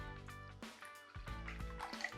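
Liquid is poured into a mix while hot sauce is made from chili peppers. It sounds like faint trickling and dripping with a few soft splashes, close by and quiet, over a low steady hum.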